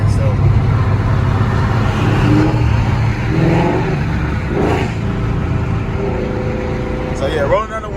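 Loud car exhaust drones and rises through open windows while driving, with someone talking over the engine noise and traffic.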